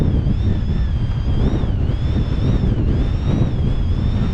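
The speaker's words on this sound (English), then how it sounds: "The wind's scooching around the side." Strong mountain wind at 30 mph buffets a camp tent, roaring steadily and close with gusty swells and a whistling tone over the microphone.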